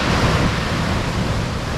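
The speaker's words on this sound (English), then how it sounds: "just that wave splashing against the sand spikes there" Sea waves wash in a steady roar against a sandy shore lined with sand spikes, with loud, close surf and wind buffeting the microphone throughout.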